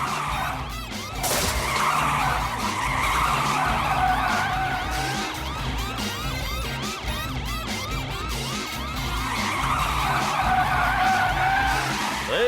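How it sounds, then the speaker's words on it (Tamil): A cartoon car speeds along in a chase with tires skidding and screeching almost continuously, a loud, steady engine roar beneath the squeals throughout. "சீக்கிரமா வண்டியை ஓட்டுங்க சார்."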